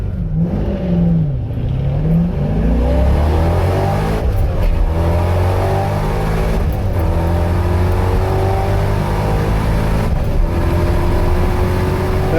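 A Corvette C5 with stock cam and heads launches down a quarter-mile drag strip, its V8 roaring loudly and close as it revs through several upshifts, each marked by a brief dip before the pitch climbs again.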